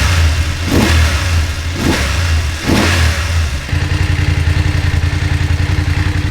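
A motorcycle left unused for a long time, with an empty fuel tank and a rusty chain, revving in three loud close bursts before settling into a rough, pulsing idle.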